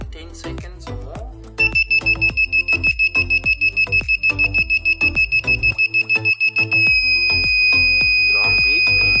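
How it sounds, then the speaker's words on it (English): A single channel remote receiver emits a long, steady electronic beep as it is erased, starting with a rapid pulsing tone that merges into one continuous high beep, loud and close over intermittent clicking. "Long beep means it's been erased."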